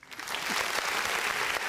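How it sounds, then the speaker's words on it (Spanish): A room applauds to welcome a guest with a quick burst of clapping that swells and holds briefly. "le damos un fuerte aplauso de bienvenida"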